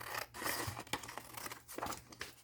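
Scissors cutting through envelope paper along a marked line while a pocket folder is made, giving a quick series of crisp snips and papery rustles close by with no talking.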